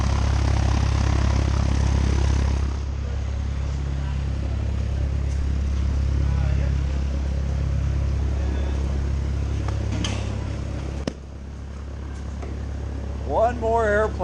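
A Cessna 172 propeller airplane's engine drones loudly and steadily nearby, its pitch shifting slightly, with voices occasionally heard over it.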